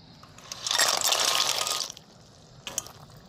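Fried rice-flour gaja pour into hot jaggery syrup with a loud bubbling, hissing rush lasting about a second, then a quieter pause and a short clatter.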